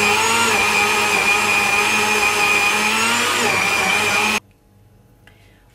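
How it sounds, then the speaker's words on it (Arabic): A loud, steady blender whirs at high speed for several seconds mixing crème caramel custard ingredients, then cuts off abruptly into near silence. "دلوقتي هنضرب بقى المكونات كلها في الخلاط"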